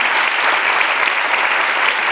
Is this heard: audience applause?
yes